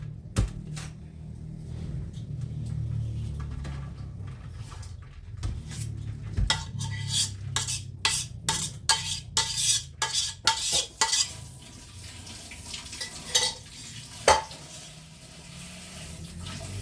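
Utensil scraping and clattering against a pan as food for lentil köfte is stirred, quick rapid strokes in the middle, with soft background sizzle and no speech.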